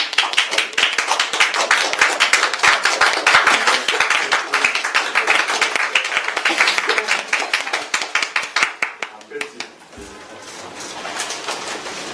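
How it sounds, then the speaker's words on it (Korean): A crowd claps enthusiastically at a political party welcome ceremony, dense rapid clapping that stays loud, thins into scattered claps, then fades out near the end. "큰 박수로 환영해 주세요."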